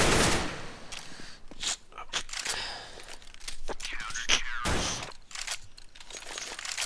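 Bursts of video game gunfire crackle repeatedly in quick, uneven volleys, loud and close, with brief pauses between shots.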